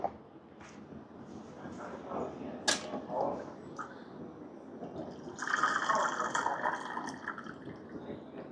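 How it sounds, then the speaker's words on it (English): Water flushes through the group head of a Sonic S7 manual lever espresso machine, a steady hissing, splashing stream that grows louder and brighter toward the end, with a few sharp clinks along the way. "a lot of water is being wasted in going through this flushing cycle"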